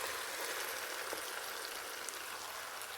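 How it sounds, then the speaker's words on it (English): Marinated mutton fries in onion masala for a Bharuchi dal gosht curry, giving a steady, close, even sizzle with no talk. "Fry for another 10 minutes until the meat takes on a rich color and all the spices have melded well"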